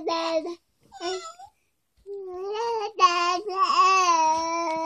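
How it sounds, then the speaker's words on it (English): A cat meow from a children's sound book plays in several short, close calls that build into a longer, wavering meow, loud and clear with no talking. "The cat meows and purrs."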